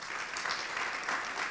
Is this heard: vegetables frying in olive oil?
no